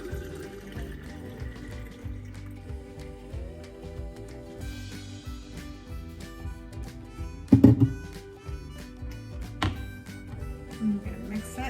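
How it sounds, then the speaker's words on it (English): Tap water runs into a bottle in a home kitchen, a steady low splashing and gurgling stream that continues close by, with a few clunks and knocks partway through. "We're gonna fill up the bottle with water."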